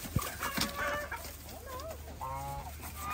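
Pheasants and other poultry in a farm pen, with scattered clucks, chirps and short warbling calls at moderate distance over soft background noise, with no talk.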